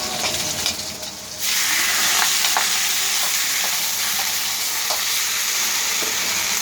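Pork and white rice noodles stir-fried for pad see ew, a loud continuous sizzle that jumps up after a quieter opening, with repeated scraping and tossing strokes of the spatula through it.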